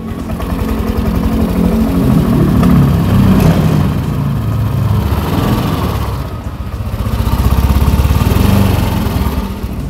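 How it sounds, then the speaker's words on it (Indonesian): A used motorcycle engine idles close by, a loud steady low rumble with slight throttle swells, running alone without voices. "Kita dengerin mesinnya dulu."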